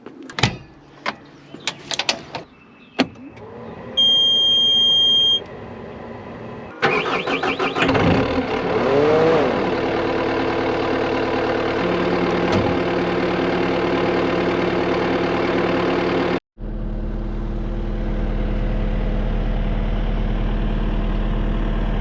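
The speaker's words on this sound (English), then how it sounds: "We're gonna go ahead and get this machine warmed up" A CAT 289D3 skid steer is started after some clicks and clunks. The engine cranks and catches, then settles into a loud, steady idle to warm up, with a short break before the rumble continues.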